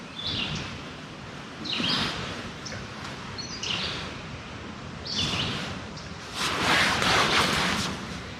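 Birds chirp in short, scattered bursts over a breezy, rushing background, the calls moderately close and intermittent across the scene.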